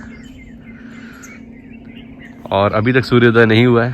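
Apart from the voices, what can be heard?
birds chirping at a dairy in the early morning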